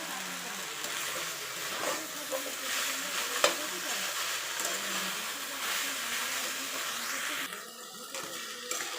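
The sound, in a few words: bottle gourd leaves frying and being stirred in a pan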